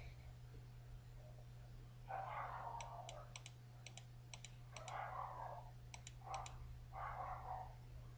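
Computer mouse clicking, a few sharp separate clicks spaced across a quiet stretch with low hum and soft speech-like murmurs around them.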